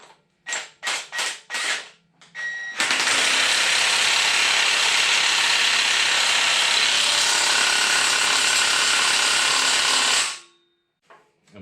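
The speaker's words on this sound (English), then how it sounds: "But let me go ahead and get it started with the impact." An impact wrench tightens the pinion nut on a Dana 60 axle during a gear and locker install. A few short metallic clicks come first, then a loud, continuous hammering rattle lasts about seven seconds before it stops abruptly.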